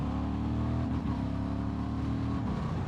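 A Honda XL750 Transalp with E-Clutch revving hard after a downshift, the engine note loud and close as it climbs and holds, a brief dip partway through, no talking.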